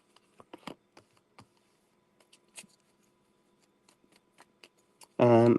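Tarot cards are shuffled and drawn, giving sparse close clicks and soft slaps against a quiet room before a voice begins speaking at the end.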